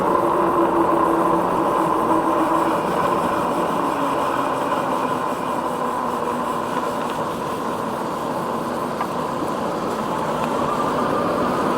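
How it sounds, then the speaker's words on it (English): A tractor engine rumbles steadily and loudly nearby during an e-bike ride, a continuous drone with no breaks throughout. "I gotta be careful around this tractor here"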